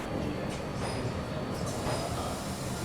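The Poorvottar Sampark Kranti Express pulls out of Prayagraj, heard from on board as a steady rolling rumble of railcars with faint squeals and clatter.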